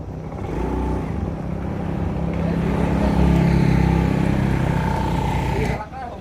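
A motorcycle engine, on a bike fitted with rim-mounted wheel lights, runs close by with a low, steady rumble that swells slightly before cutting off abruptly near the end, with a voice speaking over it.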